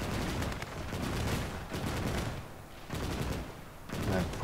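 Soldiers' gunfire in the WWII strategy game Gates of Hell, on the Soviet side of Operation Bagration: dense rattling shots in continuous bursts, moderately loud, with no clear talk.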